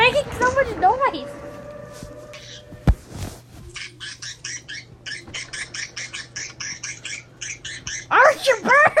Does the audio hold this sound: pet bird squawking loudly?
yes